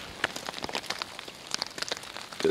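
Steady rain patters on surfaces at night at a riverside bush camp in Australia, a dense, continuous spatter of close drops with no voices.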